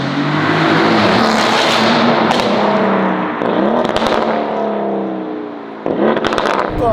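A Novitec-tuned Lamborghini Urus SE V8 SUV revs hard, its loud engine roar rising and falling through several throttle blips with crackling bursts, close by and dominant.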